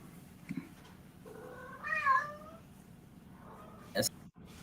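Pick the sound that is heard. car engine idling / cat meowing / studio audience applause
cat meowing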